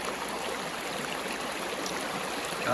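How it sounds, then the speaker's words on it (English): A stream along the Robert Frost Trail rushes in a steady, even hiss of flowing water, with a faint sharp tone cutting in at the very end. "I know the water is quite noisy."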